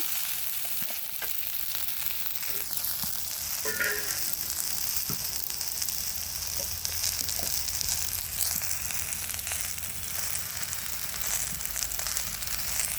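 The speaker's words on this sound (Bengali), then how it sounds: "এই তো পেঁয়াজগুলো একদম লাল লাল করে ভাজা হয়ে গেছে, রসুন পেঁয়াজ কাঁচামরিচ সব" Onions, garlic and green chilies fry in a pan with a steady, dense sizzle that lasts throughout. A few faint stirring clinks are heard near the start.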